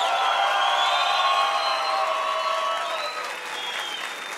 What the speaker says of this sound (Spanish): que sea el aplauso del público el que decide si el Chivo merece réplica